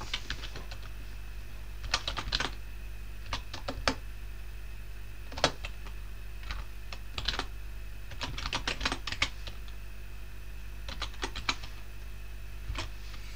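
Keys clatter on a computer keyboard as a web address is typed, in short irregular clusters of quick, fairly close clicks over a low steady hum, with no voices.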